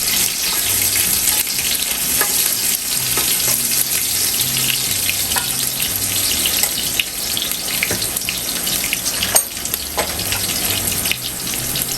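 Garlic and onion sauté in a hot pan for pork caldereta, giving a steady, close sizzle and crackle with a faint low hum beneath and occasional louder pops.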